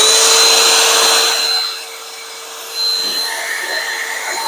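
Ryobi 18V PCL705 hand vacuum running with the hose and crevice tool fitted, a steady high whine whose pitch and loudness dip briefly midway and then recover, close up with no talking.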